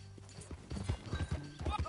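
A horse's hooves gallop in a steady rapid clip-clop rhythm in the Red Dead Redemption 2 video game, close and moderately loud, with a voice speaking over the riding.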